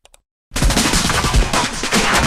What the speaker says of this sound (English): We have a drive-by shooting, but the gunshots are in the same pattern as the aim and break.